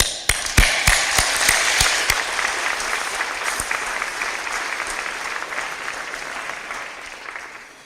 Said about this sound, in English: Now you clap.